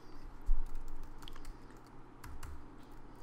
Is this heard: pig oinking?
no